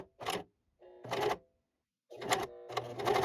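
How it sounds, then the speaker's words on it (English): A serger overlock sewing machine runs in four short bursts under foot-control feed as thread is pulled through, each burst a quick mechanical whir separated by brief silences, close and fairly quiet. "Turn serger on and feed the thread through the machine with the foot control."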